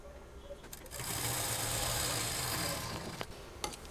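A sewing machine stitches a doubled saree lengthwise into a single bed cover, its steady motor whir building after a quiet start and running continuously for a few seconds before easing off, with faint clicks near the end.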